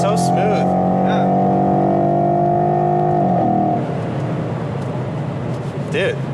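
A modified 2011 Mustang GT 5.0 V8 holds a loud, steady high rev that drops away sharply just past midway, easing to a lower throaty drone while occupants talk over it.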